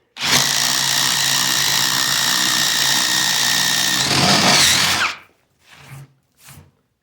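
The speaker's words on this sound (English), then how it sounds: "This is the 3-speed brushless impact driver." Ridgid Stealth Force 3-speed brushless impact driver on speed 3 with a 2 Ah battery, running a 1-inch power bit: a loud, steady high-pitched whine for about five seconds, then silence broken by two short, quieter bursts.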